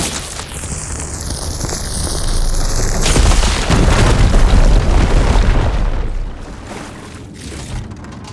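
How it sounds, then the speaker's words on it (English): A fire beam is blown apart in Horizon Forbidden West, a loud close explosion erupting after a whooshing sweep and then rumbling into a long fading roar with debris. "Should be able to blow up that fire beam."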